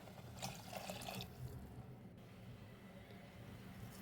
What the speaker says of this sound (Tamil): அதே அளவுக்கு வந்து ஒன் இஸ்டு டூங்குற ரேஷியோவில் நம்ம தண்ணி ஊற்றிக்கலாம்